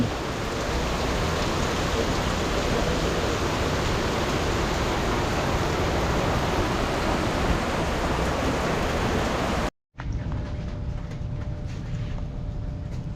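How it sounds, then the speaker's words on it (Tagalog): Heavy rain pours down on a farm in a dense, loud, unbroken hiss that cuts out abruptly for a moment, then resumes slightly quieter. "Ang lakas ng ulan."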